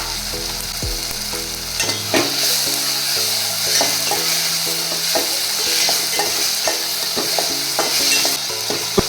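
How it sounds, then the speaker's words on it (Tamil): Tomato and coconut masala sizzles steadily in a pan, with repeated scraping and clinking stirs of a spatula close up, and no talking. "நம்ம ஆல்ரெடி வெட்டி வச்சிருக்க 2 பில்லை தேங்காவை இதில் சேர்த்து நல்லா வதக்கிக்கலாம்."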